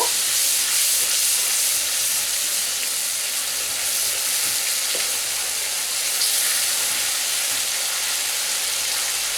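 Spices with turmeric and salt sautéing in a pan for a Bengali dhokar dalna, a loud continuous sizzling hiss throughout, with occasional faint stirring clicks and no voices.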